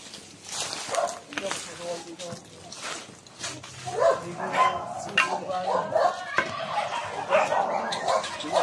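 A dog barks and yips in scattered bursts amid excited voices talking nearby, the barking growing busier toward the end.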